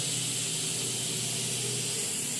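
A pressure cooker with urad dal inside gives off a steady, loud steam hiss with a faint rattling pulse underneath, heard close up with no talking.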